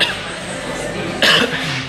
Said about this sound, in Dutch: Zo, lekker hoesten.